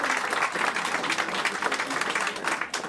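An audience at a tribute event applauds in a dense, continuous wash of clapping that stays loud and even throughout, with a faint murmur of voices underneath.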